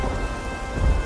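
Thunder rumbling over steady heavy rain as a sound effect in a Hindi moral story, a dense continuous downpour with a deep low roll swelling near the end, no speech.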